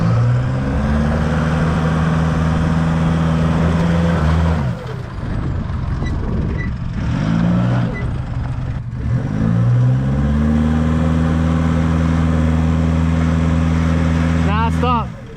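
A car engine revs hard during a burnout attempt in the desert, with a strong rising and falling drone, a rough dip in the middle, then sustained high revs, and voices talking over it.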